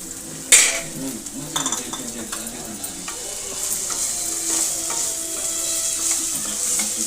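Okra with salt frying in a pan, a steady close sizzle under repeated stirring and scraping strokes of a spatula, with an occasional clink of metal, no voices.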